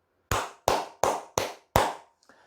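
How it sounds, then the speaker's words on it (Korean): Five sharp, evenly spaced hand claps ring out close and clear against silence, followed by a faint brief rustle at the end. "크게 박수 한번 치고 가도록 하겠습니다"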